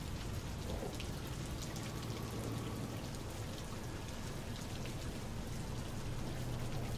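Steady rain pours down in the game Rain World: Downpour, a dense, even hiss of falling drops with a low rumble underneath, continuous throughout with no voices.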